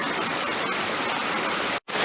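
Waterfall in the Hoh River Valley heard from a bridge: a loud, steady broadband rush of falling water filling the whole clip, briefly cut to silence near the end.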